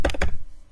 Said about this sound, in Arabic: نكتب الباسورد